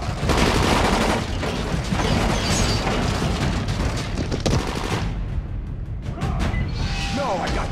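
Gunfire in the video game Dying Light: bursts of rapid automatic shots and booms in a loud, chaotic firefight, with shouted voices mixed in and a brief lull near the end.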